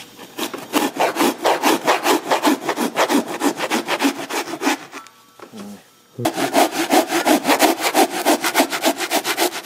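A hand saw cuts off a protruding corner of wood with rapid, steady back-and-forth strokes, loud and close, pausing briefly near the middle before the sawing resumes.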